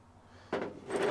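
A drawer slides open or shut as bolts are put away during a Honda SL100 engine tear-down, a close, quick scraping thud followed by a second rougher rumble, with no talking.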